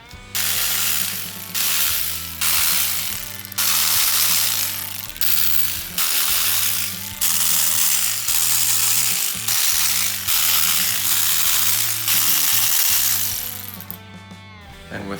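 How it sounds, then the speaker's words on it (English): Bolts are ratcheted out of the intake manifold on a Chevy 305 V8 during a Camaro engine teardown, with repeated bursts of ratchet clicking over a steady, pitched background hum. "And now I'm going to go through and remove the bolts, and then it's that same pattern now that they're all detorqued."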